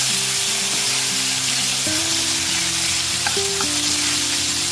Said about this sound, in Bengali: আদা বাটাটা দিয়েও খুব ভালো মতো একটুখানি মিশিয়ে নিচ্ছি